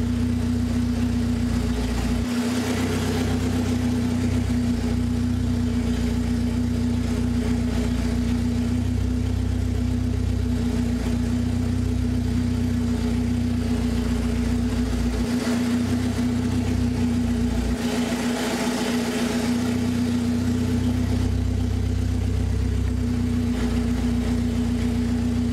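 A BMW E36 engine idles steadily just after a cylinder head and timing chain install, a constant low hum with a strong droning tone running unbroken and fairly loud throughout, with slight swells in level.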